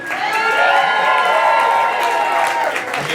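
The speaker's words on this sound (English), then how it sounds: "Oh, you have to clap louder than that or we have to cancel the show." Crowd at a live show claps and cheers louder, with whoops and shouts over steady applause, loud and continuous across the whole moment.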